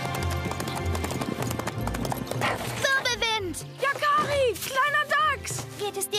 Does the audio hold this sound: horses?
yes